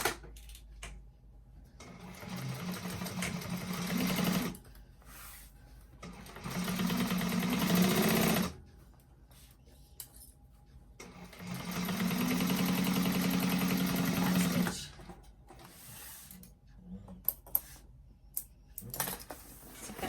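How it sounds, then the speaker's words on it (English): A sewing machine stitches the bottom of a fabric bag shut with a half-inch seam allowance, running in several steady bursts of whirring separated by short pauses, close and clear with no talking. "So I'm going to go and sew that shut with the 1/2 inch seam allowance we were doing at the bottom of the bag."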